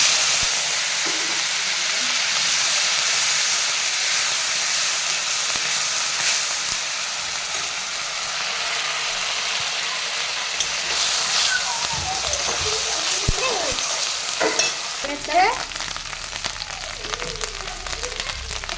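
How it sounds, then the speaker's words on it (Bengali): Garam masala and onion paste sizzle steadily in hot oil, a close, continuous fry with occasional sharper crackles and stirring scrapes toward the end. "তেল গরম হয়ে গেছে, গরম মশলা দিয়ে দিলাম আর দিয়ে দিলাম পেঁয়াজ বাটা।"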